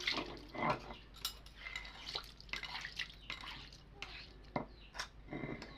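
A grinding stone being rinsed with water before grinding mustard: irregular splashes, drips and wet stone knocks close by, quiet and uneven, with no voices.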